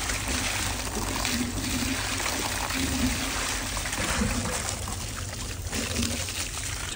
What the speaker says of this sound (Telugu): నీళ్ళు ఫాస్ట్గా పోతాయి.